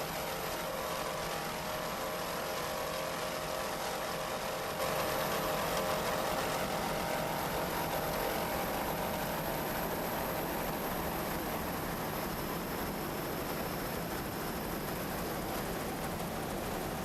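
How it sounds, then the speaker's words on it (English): Offshore racing powerboat engines on open water, a steady broadband roar that holds unbroken throughout, faint and distant with no speech. "Both seems to have a good attitude, and those engines sound excellent."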